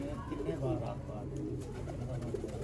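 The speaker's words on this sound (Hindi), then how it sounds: "ये बड़ा कबूतर है" A large Sharmeela (shy) pigeon coos in a breeder's loft, soft low rolling calls repeating close by while someone talks over them.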